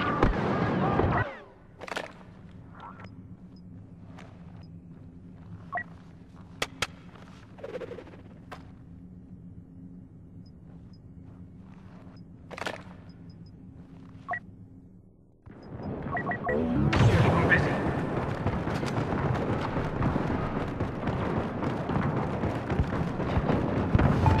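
Star Wars Battlefront 2 battle: a steady low rumble carries sharp blaster shots and small blasts, then a loud surging burst of explosive noise from about 15 seconds onward.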